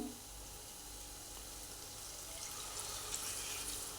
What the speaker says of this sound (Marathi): आपण ह्याच्यामध्ये टाकून घेऊया थोडंसं पाणी